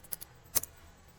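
A few quick, faint keyboard clicks sound as a Linux command is typed. Two light taps come close together and one sharper keystroke follows about half a second later, alone against quiet background.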